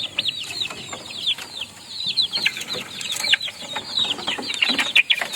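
Backyard chickens clucking and chattering around feeding time, a busy overlapping flock of close, repeated clucks with occasional wing flaps, no talk.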